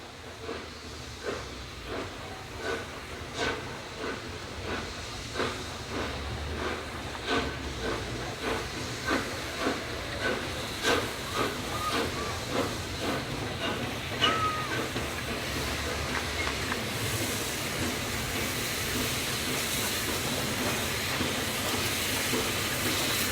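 Steam locomotive 4472 pulls out of Scarborough with a steady rhythmic chuffing of exhaust beats over a continuous steam hiss. The beats are moderately loud and fairly close.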